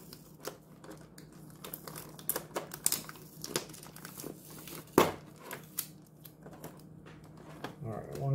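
Foil Pokémon Champions Path card packs being torn open and handled, with crinkling wrappers, rustling and card flicks in uneven bursts under steady conversational speech.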